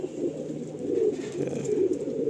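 A pigeon coos close by in a continuous low, burbling rumble that swells and dips.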